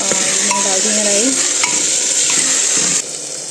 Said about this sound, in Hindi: ये हम इस राइस को डाल देंगे